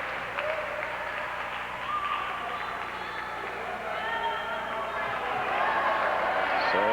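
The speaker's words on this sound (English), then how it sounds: "So the West Aurora crowd cheering for Michelle." West Aurora spectators at a 1997 girls' high school state tennis final cheering and clapping, a sustained crowd roar that swells toward the end, with voices mixed in.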